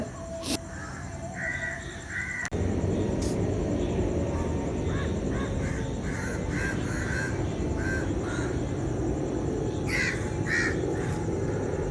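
Crows caw repeatedly at a distance over a steady outdoor hum, heard from a house rooftop, with a few other birds chirping now and then through the morning air.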